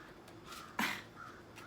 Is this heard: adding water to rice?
no